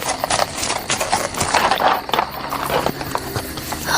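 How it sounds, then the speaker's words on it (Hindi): Horse hoofbeats as a sound effect: a busy, continuous clip-clop of several hooves, close and fairly loud, with a slightly muffled, echoing backdrop and no talking. "अंबर भी घोड़ों की टापों की आवाज का पीछा करता हुआ उनके पीछे पीछे भागा।"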